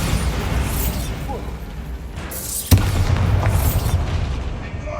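A spell blast in Hogwarts Legacy: one sharp, loud Bombarda explosion hits midway through a steady rumbling game soundscape, and the booming tail fades over the following seconds.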